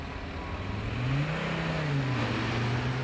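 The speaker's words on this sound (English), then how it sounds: "Now, because I've got an automatic, I can just hold it on the brake, plus I've got all-wheel drive traction." A 2017 Volvo V90 D5 diesel with all-wheel drive and a 1995 Volvo 850 T5 petrol car accelerate in a drag race, one steady engine note rising in pitch as the car pulls away at moderate distance.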